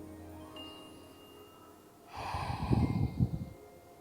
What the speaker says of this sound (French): Inspirez profondément.